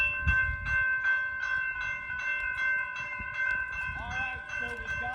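A stopped Norfolk Southern train sits at the Visger Road crossing in Ecorse, Michigan, its steady mechanical hum carrying alongside the repeating ding of the crossing bell, with a louder rumble at the start and another toward the end.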